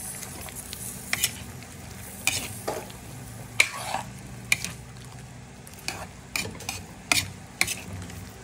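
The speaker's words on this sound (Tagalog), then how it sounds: "Tapos haluin po natin yan guys" Vegetables get stirred in a pan with a spatula or spoon, producing a run of clanking scrapes and knocks every second or so over a soft continuous sizzle, with no talking.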